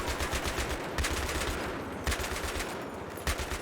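Rapid bursts of machine gun fire in Battlefield 3 crackle in quick rhythmic volleys, with a few sharper louder shots standing out, no voices heard.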